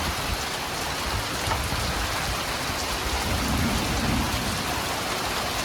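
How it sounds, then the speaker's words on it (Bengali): Heavy rain pours steadily onto a rural homestead during a storm, a dense, continuous roar of drops on surfaces with no voices. "অনেক বৃষ্টি হইতেছে আজকে।"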